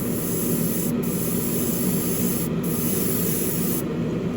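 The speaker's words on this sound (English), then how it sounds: "So we do a little test spray there" Light test spray of magenta paint from a can onto an AMT '67 Impala model car body gives a steady, close hiss that runs continuously with no breaks and no voices.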